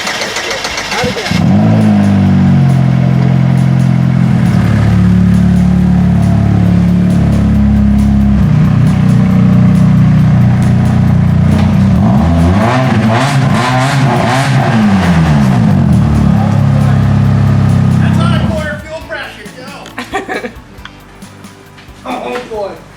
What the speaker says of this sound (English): Let's take your new race car.